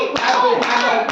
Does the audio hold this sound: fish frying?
no